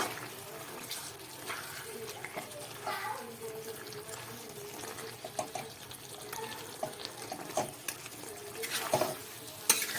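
Cumin, black pepper and garam masala stirred into a chicken gravy in a pan, soft wet scraping strokes over a low simmering sizzle, with a few sharper knocks of the spoon near the end.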